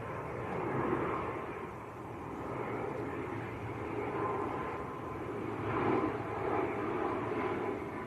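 Loganair ATR turboprop airliner arriving from Aberdeen at Manchester Airport, a distant, swelling propeller drone that rises and falls in waves against breezy outdoor air.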